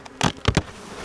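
Honeybees at a hive entrance make a couple of quick, faint buzzing passes close by, over near silence.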